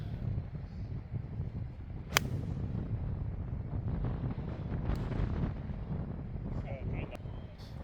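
Steady wind gusting across an open golf course during a tournament practice round, a continuous low rumbling buffet against the microphone with one sharp transient partway through.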